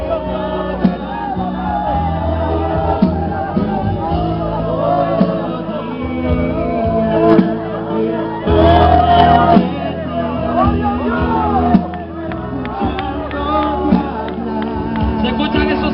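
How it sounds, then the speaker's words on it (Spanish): A crowd gathered around a campfire at a congress event shouts and whoops together in a loud, sustained group cry, voices overlapping in rising and falling bursts with a stronger surge midway. "¿Esto es un grito de júbilo? ¡Y un grito de guerra! ¡Un grito de victoria!"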